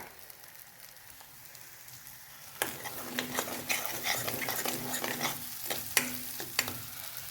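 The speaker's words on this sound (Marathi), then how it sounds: "बघा छान तेल सुटेपर्यंत मसाला भाजून घ्यायचा" Masala roasting in oil for egg curry: a quiet background hiss, then from about two and a half seconds a louder frying sizzle with sharp crackles and stirring scrapes, close and continuous with no talking.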